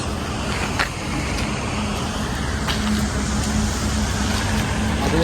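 Road traffic from a highway right beside a farmhouse in Kolad, Konkan, a continuous loud rumble of passing vehicles with occasional faint higher tones, no voices.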